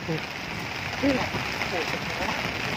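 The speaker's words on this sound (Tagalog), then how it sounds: "Napakalakas po ng ulan mga kasukat." Heavy rain pours down steadily on a muddy rural road as a broad, constant hiss, with a person's voice briefly heard beneath it.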